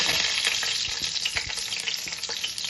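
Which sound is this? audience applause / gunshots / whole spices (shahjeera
whole spices (shahjeera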